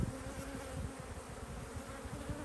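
Honey bees at an open hive in an apiary hum in a steady, close, low buzz with no break, fairly quiet and alone.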